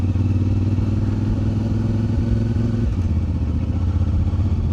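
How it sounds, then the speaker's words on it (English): CFMOTO 450 MT motorcycle riding in first gear at 2000 RPM, its engine rattling steadily with a loud, close, uneven low-rumbling clatter throughout. "So first gear, 2000 RPM. It's still rattling a little bit."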